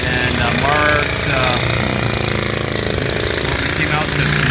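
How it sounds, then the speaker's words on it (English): Air hammer pounding through tree roots and rocky soil on a residential slope while digging to relocate a gas line, loud and continuous with rapid percussive chatter, with people talking over it. "It's now turned into that air hammer because the roots of that tree and certainly the rocks in my neighborhood are plentiful on that slope."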